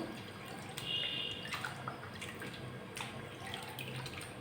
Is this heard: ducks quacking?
no